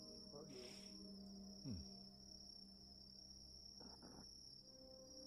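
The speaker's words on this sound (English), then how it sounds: "Still hear crickets." Steady, faint cricket chirping fills a quiet night scene in the VRChat video game, a continuous high buzzing drone with a few soft incidental sounds underneath.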